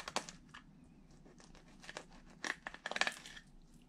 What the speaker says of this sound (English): And then cut through the pin bones.